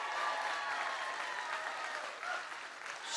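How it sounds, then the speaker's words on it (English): An audience at a political conversation event in Chester, Pennsylvania, claps in a steady sustained round of applause that fills the whole moment, dense and even, with a faint murmur of the crowd beneath. "I think we could give her a round of applause right now just to start."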